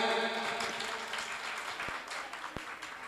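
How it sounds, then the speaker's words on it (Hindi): Applause from an audience at a remembrance day concert as a singer comes on stage, a steady dense wash of clapping held at an even level throughout. "जोरदार तालियां"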